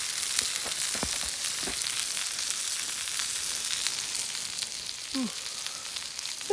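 Meat sizzles steadily over an outdoor fire on a winter lake, a continuous bright frying hiss with occasional small pops and crackles, heard alone at close range.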